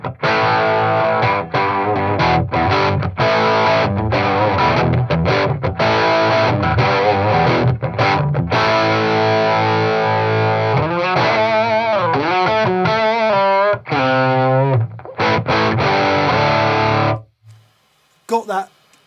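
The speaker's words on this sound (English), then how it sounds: "It's got that breaking speaker aggressiveness about it" Electric guitar run through a Boss Blues Driver overdrive pedal, playing loud, gritty distorted chords and riffs with a breaking-up speaker edge, steady strums giving way to faster single-note bends before stopping abruptly near the end.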